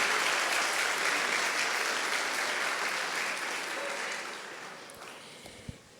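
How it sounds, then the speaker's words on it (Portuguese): A church congregation breaks into dense, loud applause that rolls on as a steady wash, then gradually thins and fades toward the end, with a faint voice underneath. "Vamos aplaudir essa igreja maravilhosa."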